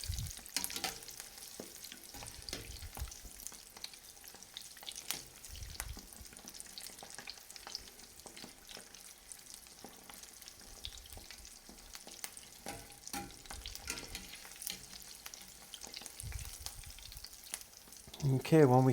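Jalapeño poppers deep-fry in hot oil, giving a steady, close sizzle and bubbling that lasts throughout. A louder clatter near the end suggests the pieces being stirred or lifted out with a spider strainer.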